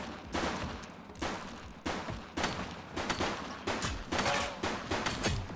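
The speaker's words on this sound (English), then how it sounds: "She's shooting!" Gunfire in The Precinct police game, a string of sharp shots and short bursts repeating at close range, loud and with no talk over it.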